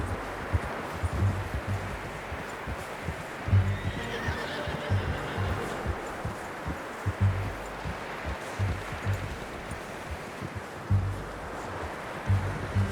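A horse in Red Dead Redemption 2 whinnies and snorts amid steady rustling and soft hoof shuffles, the neighs rising a few times over a continuous outdoor bed of sound.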